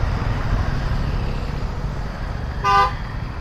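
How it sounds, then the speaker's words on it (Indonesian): A car horn gives a short toot over continuous road and traffic noise heard from a motorcycle riding through Jakarta, near and clearly louder than the steady engine and road rumble. "2 kali dia ngelakson."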